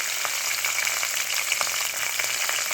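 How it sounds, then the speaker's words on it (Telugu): Green chillies hit hot oil already spiced with cinnamon and cloves for an aloo tomato curry, giving a steady, close sizzling hiss with scattered sharp crackles throughout. "ఇప్పుడు నేను పచ్చిమిరపకాయలు వేసేసుకుంటాను"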